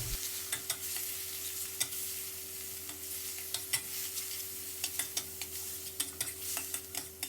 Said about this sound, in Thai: ตามด้วยหมูสับ 200 กรัม แล้วก็ให้เราผัดหมูรอให้สุกเลยนะครับ